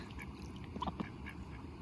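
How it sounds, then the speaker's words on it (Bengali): Ducks at a quiet lakeside in the late afternoon give a few brief, faint quacks close together near the middle, over soft outdoor background noise. "আমাকে দেখে হাঁসগুলো খুব খুশি আমার কাছেই চলে এসেছে"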